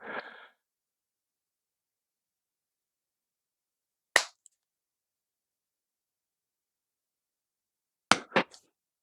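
The deployed extension on a Pagani Design PD-1661 Submariner homage watch's bracelet clasp snaps back in, giving brief, sharp close clicks separated by silence, the last a quick double snap.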